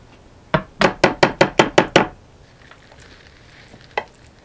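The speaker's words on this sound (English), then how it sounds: "we're going to put our stuffing right in the Pyrex baking dish" Thanksgiving stuffing spooned into a Pyrex glass baking dish in an RV kitchen: a quick, even run of about seven close scraping taps, then a single tap after a short pause, with no talking.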